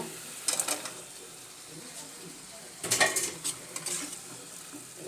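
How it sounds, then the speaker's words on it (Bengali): Spices sizzle and are stirred in a pan while cooking Pangas fish with Malabar spinach, with scraping, clinking spoon-on-pan bursts coming in two clusters over a soft frying hiss, heard close. "এখন মশলা কষিয়ে মশলার ভিতরে দিয়ে দিব"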